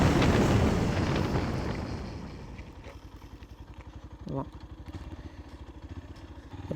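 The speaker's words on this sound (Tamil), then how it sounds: "ஸோ இப்போ நான் 80 போயிட்டுருக்கேன். இப்போ பிரேக்கிங்" A Yamaha FZ version 3 motorcycle ridden at about 80, loud wind-blasted engine roar easing as it brakes, leaving a steady close engine putter with a rider talking over it.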